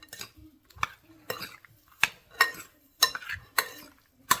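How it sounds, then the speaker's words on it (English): A spoon stirs peach pie filling in a bowl, clinking against the sides in repeated sharp scrapes and taps, close and fairly quiet, with no talk. "And I'll stir this up"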